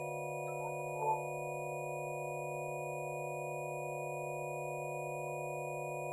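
Steady high-pitched sine tones from a PIC32-based sight-via-sound machine hold level and unbroken, with several pure pitches stacked at once and a faint brief blip near the start; quiet and otherwise alone.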